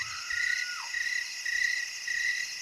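Crickets chirp in short, evenly spaced bursts, about four pulses of thin, high trilling over a quiet background.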